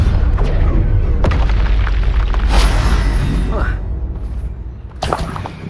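Spell blast from the Depulso force-push charm in the video game Hogwarts Legacy, a loud booming burst with sharp impacts around the midpoint and a final crack near the end, over a dense rumbling game backdrop.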